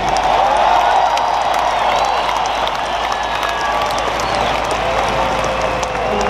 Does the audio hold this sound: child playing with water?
no